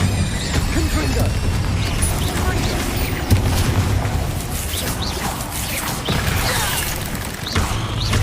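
Confringo fire spell blasts and booming impacts from Hogwarts Legacy combat, a dense, loud continuous barrage of whooshes and crashes with game effects layered throughout.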